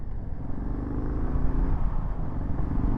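A 2025 Harley-Davidson Low Rider S motorcycle on the road heading toward a speedway, its engine droning steadily and loud for a few seconds with wind noise, no talking.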